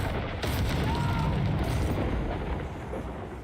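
Bombarda spell explosion in the video game Hogwarts Legacy, a dense booming burst with rumbling debris that fades over a few seconds, heard amid ongoing game battle noise.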